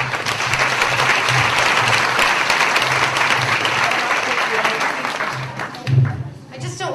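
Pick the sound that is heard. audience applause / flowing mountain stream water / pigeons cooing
audience applause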